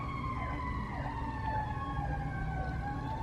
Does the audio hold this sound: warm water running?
no